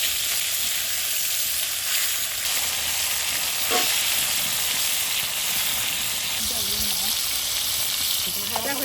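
Khoira fish frying lightly in a pan gives a continuous close sizzle and hiss, steady and even, with faint clinks of turning the pieces.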